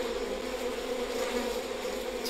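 Big bees swarm with a constant, even buzz in the video game We Happy Few, a close, continuous drone with no voices over it.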